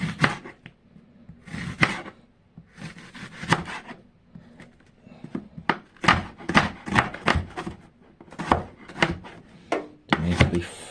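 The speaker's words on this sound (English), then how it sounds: "cut these onions" Onions being chopped on a cutting board by hand: irregular bursts of crisp knife strikes on wood, some rapid runs of several quick chops between pauses, close and clear with no speech.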